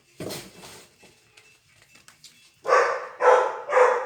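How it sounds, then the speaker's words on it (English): A pet dog barks three times in a row near the end, loud and close in a quiet room, after a stretch of faint indoor shuffling and handling sounds. "What is my dog doing?"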